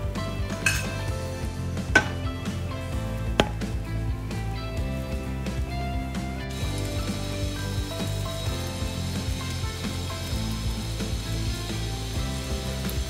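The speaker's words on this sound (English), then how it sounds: "In the same pan, I'm going to put some butter, that is for the pav" Butter melts and sizzles in a pan used for Mumbai street-style pav bhaji, a soft frying hiss under a few sharp clinks of a metal utensil against the pan, with no talking.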